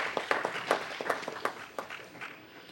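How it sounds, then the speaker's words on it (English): Scattered hand claps from a small council meeting audience, a loose cluster of individual claps fading out within three seconds. "give him a round of applause."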